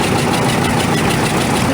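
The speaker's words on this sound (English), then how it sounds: "1952 John Deere Model R. The R was John Deere's first diesel tractor." A 1952 John Deere Model R, the maker's first diesel tractor, runs with a steady, loud engine drone at an old engine show parade, with dense continuous rumble and no speech.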